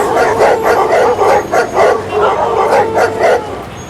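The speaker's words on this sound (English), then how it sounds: "Monkey follows Timmy to a street alley with 10 dogs." A pack of about ten dogs barks in a street alley, overlapping woofs and yips in quick rhythmic bursts, loud and close, with whimpering bits between the barks and no clear talking.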